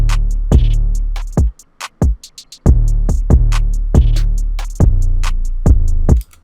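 A punchy trap beat with deep sustained bass, bouncy snares and a quick stuttering hi-hat roll from a Mirror Touch drum kit ticking between hits, loud and up front.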